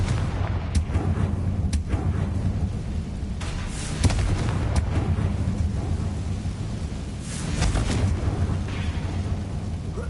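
Booming fiery explosions from the Confringo spell in Hogwarts Legacy, a dense rumbling roar sustained throughout with heavier blasts around four and seven seconds, loud and close.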